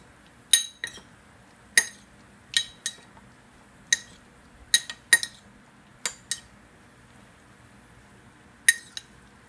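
Mangu being stirred with salt in a bowl, a utensil striking the dish in about a dozen sharp, bright clinks at an irregular pace, close by and alone over a quiet background.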